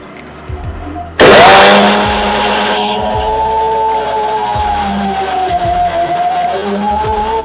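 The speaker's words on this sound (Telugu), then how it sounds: "మిక్సీ వేస్తున్నాను." A mixer grinder whirs into life with a sudden loud start, grinding soaked batter to a dosa-like consistency, then settles into a steady high whine that runs to the end.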